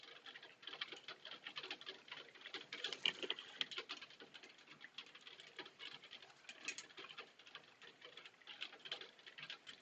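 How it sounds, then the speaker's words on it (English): Hail falls outside, a faint, dense patter of small irregular ticks and taps that continues steadily throughout without talk. "it just started hailing."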